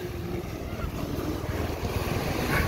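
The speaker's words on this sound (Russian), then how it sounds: "Водичка, волны" Waves wash on open water with a boat nearby, a dense rushing surf and blustery wind buffeting the microphone at close range, steady and loud throughout.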